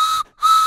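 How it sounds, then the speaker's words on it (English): Two loud, shrill train whistle blasts, each cut off sharply by a brief silence, close and piercing. "they can make three short whistle sounds"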